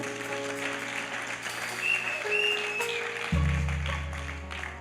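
Applause from a church congregation during a French-language worship service, a steady wash of clapping that swells and holds for several seconds, with a sustained organ or keyboard chord entering partway through.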